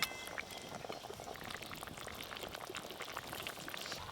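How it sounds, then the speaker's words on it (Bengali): Fish curry with green tomatoes simmering in a pot, a soft continuous bubbling and popping at low volume, heard alone without talk. "ঝোলের মধ্যে একটু মাছগুলো ভালো করে দিয়ে তারপরে ফুটিয়ে নিতে হবে"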